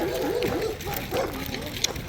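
Several dogs bark and yip in the distance, overlapping in irregular bursts over outdoor background noise.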